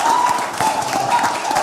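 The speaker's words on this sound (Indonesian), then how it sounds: "Tepuk tangan dulu untuk kita semua, tepuk tangan dulu ya." Audience applause at an Indonesian gathering, a steady wash of clapping across the whole stretch at an even, fairly loud level, with a faint tone or voice running through it.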